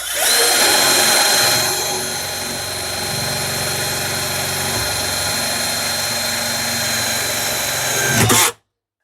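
KPT KDD18V 18V cordless drill boring holes through plywood with a wood bit: a loud, close, continuous motor whine with slight load changes, running about eight seconds before cutting off abruptly.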